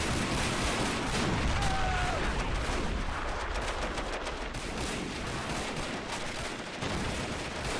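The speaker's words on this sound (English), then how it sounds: "We have another one out here by the roadblock, firing at the US battery in the distance." A war strategy game set in a fictional 1912 American invasion of Canada, with artillery pieces firing from a roadblock toward a distant battery: a dense, continuous roar of overlapping gunfire and cannon reports, steady and loud throughout.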